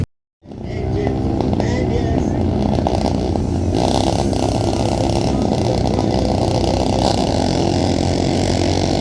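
Royal Enfield Guerrilla 450 motorcycles race on a flat track, their engines roaring loud and continuous after a brief silent start, with revs rising and falling as the bikes pass.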